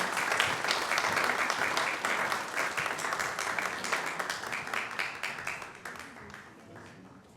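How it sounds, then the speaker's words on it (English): Church congregation applauding at a Mother's Day morning service, a dense steady round of clapping that gradually thins and fades toward the end, with some voices mixed in. "Can we give these lovely ladies a big round of applause for sharing this morning?"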